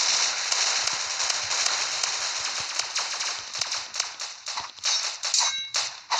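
Rapid crackling laser shots from a weapon in the Roblox game Zombie Rush, a dense run of sharp bright snaps that stay close and fairly loud and thin out toward the end.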